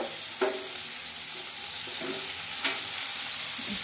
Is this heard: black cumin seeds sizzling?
yes